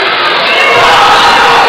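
A high school basketball crowd at a Sheldon versus Sioux Center game roars and cheers in a gym. The sound is loud and sustained and swells steadily, with shouting blended into the noise.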